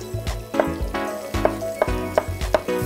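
Chopped leeks sizzling in a frying pan, a steady close fry with a run of sharp clicks and scrapes from stirring over it.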